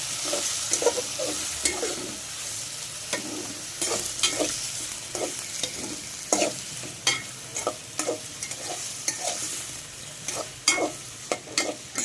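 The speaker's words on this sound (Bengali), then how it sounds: "এখানে কিছু অল্প পরিমাণ রসুন বাটা এবং পেঁয়াজ বাটা অ্যাড করে দিলাম সবগুলো আমি ভালো করে" Chicken frying in a pan with garlic and onion paste for a restaurant-style chicken curry, with a steady sizzle and repeated sharp scraping stirs throughout, close and clear with no talking.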